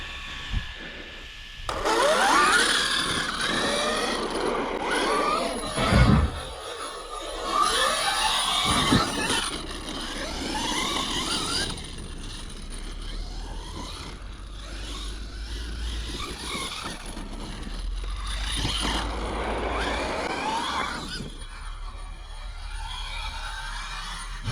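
A brushless 650 KV, 12S-powered FG Baja 4x4 RC car whines and buzzes as it runs, the pitch sweeping up and down in repeated bursts, moderately loud and steady with no voices.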